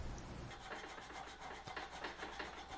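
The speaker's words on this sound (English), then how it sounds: "I'm filing out the slot on the guard, fitting up the knife" Steady, repetitive rasping strokes of a metal file cutting the slot in a knife guard, close up, continuous scraping rhythm with no talking.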